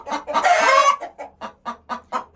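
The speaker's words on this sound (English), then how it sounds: "This is what a broody hen does when you try to get to the eggs." A disturbed broody hen sitting on her eggs lets out a loud, harsh squawk followed by a rapid series of short, agitated clucks, close up and alone.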